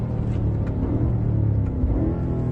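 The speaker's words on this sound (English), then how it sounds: "the sound with the exhaust system in this car" A BMW M5 safety car driving on a race track, its engine and exhaust producing a low, rumbling drone that rises and falls slightly, heard steadily from inside the car at moderate level.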